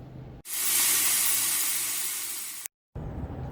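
Water running from a tap for hand washing, a loud steady hissing rush that starts abruptly, holds for about two seconds, cuts out briefly, then returns.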